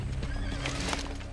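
A horse whinnies loudly and close up as hooves clatter beneath it, one short, continuous burst with no talking.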